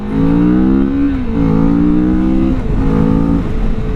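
A 2023 Kawasaki Vulcan S 650 Cafe cruiser with chain drive revs hard as it accelerates, its loud, close engine tone climbing through a gear change and pulling again, with no talk.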